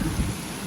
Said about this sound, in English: I can hear them thunder.